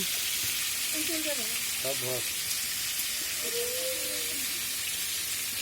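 Potatoes frying in a pan in a home kitchen make a steady, loud hiss of sizzling oil throughout, with faint voices briefly audible underneath.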